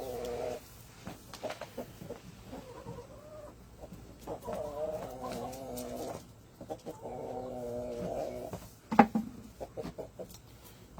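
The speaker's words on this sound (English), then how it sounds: "Hear that second sound? That's the male guinea sound." A male guinea fowl calls repeatedly in rhythmic, harsh two-part cries, moderately close, alongside scattered clucking and clicks from other birds.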